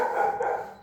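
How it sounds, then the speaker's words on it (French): A fearful Belgian Malinois at a dog pound lets out one short, close bark, loud and alone. "la malinoise craintive, qui aboie quand on est à l'extérieur"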